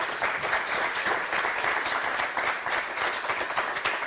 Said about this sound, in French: Eh ben, on vous applaudit très fort.